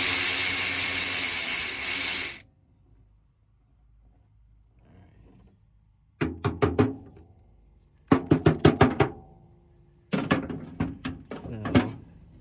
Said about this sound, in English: I had to get a flex head ratchet and kind of do that